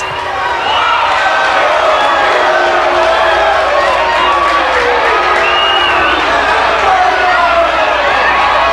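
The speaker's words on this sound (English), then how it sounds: "The crowd not happy with the wild woman. They lead the jeers while she asks for cheers." A wrestling arena crowd jeers and shouts at a female wrestler, a dense, continuous roar of voices with whistles and calls.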